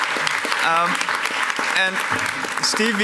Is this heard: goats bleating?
no